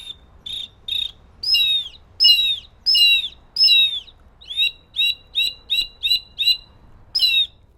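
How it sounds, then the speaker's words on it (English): A shrill whistle blows in a series of bright, piercing chirps, some longer and swooping, others short and rapid, loud and close with no talking. "I have a hawk whistle."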